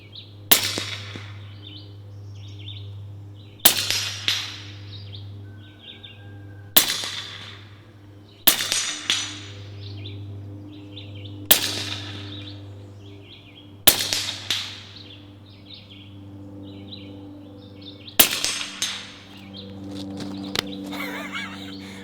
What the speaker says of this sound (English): last 12 rounds I'm gonna be putting through this Sidewinder before I have to send it back